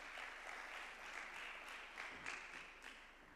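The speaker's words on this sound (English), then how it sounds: "I think our panel deserves another round of applause." An audience at a teen conference applauds a panel, a soft, steady wash of many hands clapping at a distance, with no voices over it.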